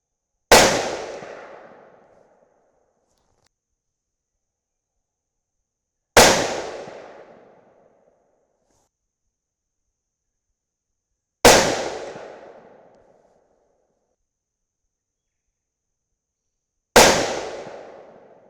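Four loud rifle shots fired during barrel harmonics testing, each a sharp close blast with a decaying echo, spaced about five seconds apart amid otherwise silence.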